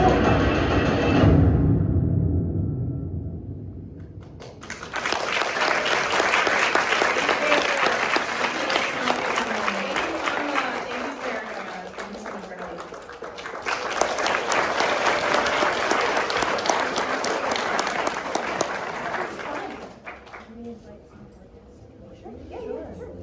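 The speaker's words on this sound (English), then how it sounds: "one more round of applause for that" Audience applause at a panel event in New York comes in two sustained bursts, with a lull between them and a brief noisy stretch before the first, fading out near the end.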